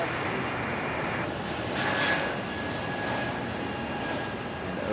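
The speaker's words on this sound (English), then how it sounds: "JetBlue A220 on the move." Distant, steady rumble and whine of a JetBlue Airbus A220 airliner moving at Raleigh Durham airport, continuous and even with a faint thin tone rising briefly in the middle.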